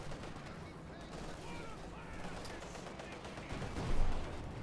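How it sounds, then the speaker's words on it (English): T-34 tank guns fire in a Company of Heroes 2 battle, a faint, distant clatter of shots amid busy battle noise, with one heavier burst near the end. "Penetrating hits on both T-34s"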